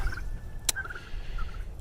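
Turkeys on a pasture farm kept inside an electric net give a brief gobble and a few faint calls over low outdoor background noise, fairly close, with no talking.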